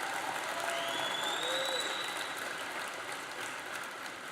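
An audience at a national youth sports awards benefit applauds for Mindy Rogers and the PCA Board, steady clapping filling the room throughout at moderate volume.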